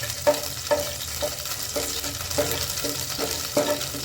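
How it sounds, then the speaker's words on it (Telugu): Frying in hot oil in a pan while cooking a chicken curry: a continuous close sizzle with regular spatula scrapes every half second or so, steady and unvoiced. "ఇలా మంచిగా మనం ఫ్రై చేసుకుంటూ ఉండాలి."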